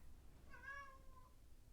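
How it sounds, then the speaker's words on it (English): A pet cat gives a single drawn-out meow, faint and somewhat distant, against a low background hum with no talking. "that's my cat."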